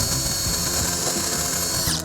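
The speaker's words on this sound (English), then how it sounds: "Now all I have to do is hook this up to a drill and drill this hole." A power drill bores a hole through a deck stair board, whirring loudly and steadily for about two seconds before winding down at the end, with no talking.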